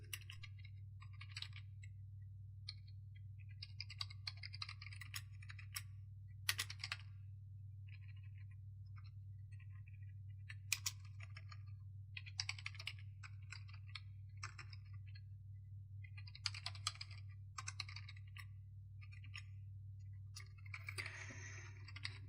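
Scattered clicks of code being typed on a computer keyboard, irregular bursts of keystrokes at close range over a steady low hum, with no talking.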